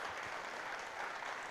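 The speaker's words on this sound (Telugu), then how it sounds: "గట్టిగా చప్పట్లతో వారికి ముందుగా మనం" An audience at a Telugu stage event claps for Garikapati Narasimha Rao after his discourse, soft, even, distant applause continuing throughout the short stretch.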